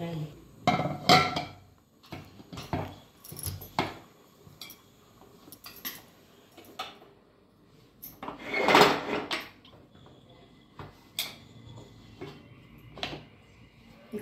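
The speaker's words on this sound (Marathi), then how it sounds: "कुकरचं झाकण लावलं आणि शिटी पण लावली." A metal pressure cooker lid is fitted and its whistle weight set in place in a home kitchen, giving a string of sharp clanks and clicks with short gaps between them, close and fairly loud.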